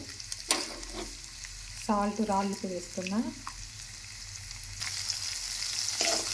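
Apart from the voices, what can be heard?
nalleru (Cissus quadrangularis) frying in a pan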